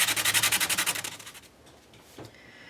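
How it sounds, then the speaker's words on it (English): Fine grit sandpaper rubs quickly back and forth across a paper magazine collage, about a dozen rhythmic close strokes, then a few quieter scrapes. "bringing in a fine grit sandpaper, and I'm going to grunge this up"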